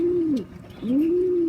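Homing pigeon cooing close by, two drawn-out rolling coos with a short dip between them, clear and alone with no talk.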